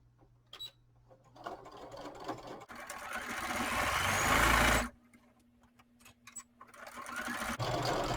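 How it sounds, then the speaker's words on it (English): A sewing machine stitching a pleated fabric tote bag, running in a sustained close whir for a couple of seconds, then stopping, with shorter bursts and quiet handling sounds around it. "We're going to sew all the way down to the fold where we made that pleat."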